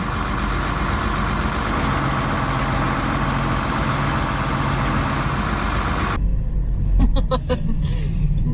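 A truck engine idles in a loud, close, steady rumble, then cuts off abruptly partway through, leaving a quieter space with a few brief knocks.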